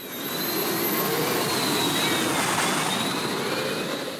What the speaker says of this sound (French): Place aux moteurs d'avion et autres turbines d'hélicoptères